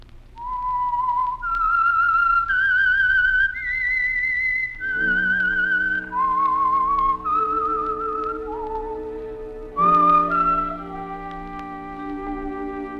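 A single person whistles a short, wavering melody of sliding notes, clear and close, with a low musical accompaniment entering partway through.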